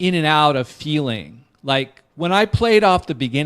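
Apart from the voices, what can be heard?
No distinct noise like a dog, phone or traffic.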